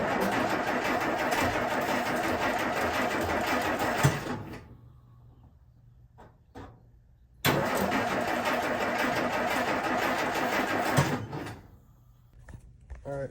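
A 1950 Plymouth engine cranks in two long loud bursts of several seconds each, the starter churning rhythmically up close, with quiet pauses and faint clicks in between after choke and carburetor tinkering.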